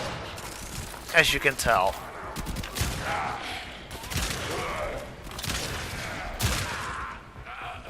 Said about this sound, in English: I can hold it down like so and it will only shoot once. I can also shoot double at once,